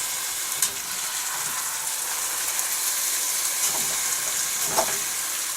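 Dumplings frying in a Dutch oven, a steady close sizzle and hiss with a few soft clicks of stirring, and no voices.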